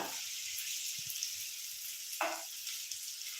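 Chili sizzling in oil in a pan over a low gas flame: a steady, close, bright hiss that runs throughout, with a brief clatter of utensils partway through.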